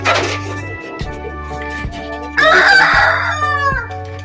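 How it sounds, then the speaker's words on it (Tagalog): Heritage rooster, a Rhode Island Red or Jersey Giant, crowing loud and close in one long cock-a-doodle-doo, with some hen clucks and a low steady hum underneath. "So ito yung tatay nila. Ito yung Rhode Island Red natin, si Red."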